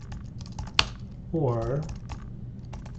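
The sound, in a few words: typing on a computer keyboard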